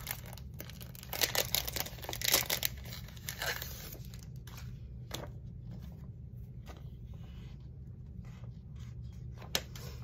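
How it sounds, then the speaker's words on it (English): A sticker being peeled out for a mini photo album, with soft close crinkling and peeling of paper early on, then quiet rustles and faint taps. "And let's get the sticker out."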